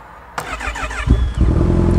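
A motorcycle engine cranks with a brief starter whir, catches and settles into a loud, close, steady idle.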